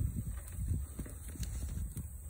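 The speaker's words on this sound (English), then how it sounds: "He's still walking funny, but he's moving." A goat walks on freshly trimmed, formerly badly overgrown hooves, giving faint, soft and uneven hoof steps over a low background hum.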